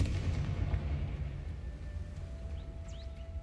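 Confringo blasting curse explosion in a video game, a low booming rumble with deep thuds that fades slowly into a soft background hum, heard alone at moderate distance.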